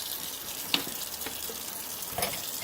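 Warm water from a hose spraying over dirty humidifier filters, a steady broad hiss of running water with a couple of brief splashy bursts, fairly close and continuous.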